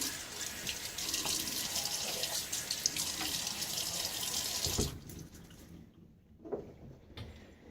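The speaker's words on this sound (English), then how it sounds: "Let me get my face a little wet." Water runs steadily from a bathroom tap for about five seconds as someone wets their face before a shave with a Gillette NEW d'Luxe safety razor, then the flow stops and a few drips and splashes follow.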